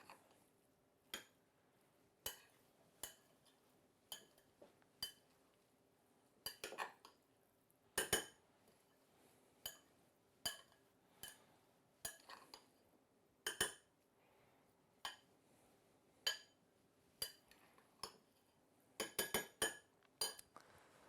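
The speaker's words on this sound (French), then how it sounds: "on mélange tout doucement en allant bien chercher au fond toute la garniture, tout le taboulé, et on mélange tout" A utensil clinks against a bowl again and again while tabbouleh is gently stirred with vinaigrette, sharp, spaced taps and scrapes over near silence.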